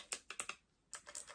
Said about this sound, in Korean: 막 이거 딸깍딸깍이 누르는 느낌도 너무 좋고